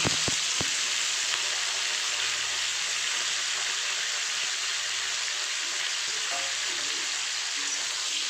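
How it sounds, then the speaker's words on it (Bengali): Dense, even hiss of green beans frying in a pan, close and constant, opening with a few sharp clicks of the utensils. "শিমগুলো একটু ভাজা ভাজা মতো করে দেবো।"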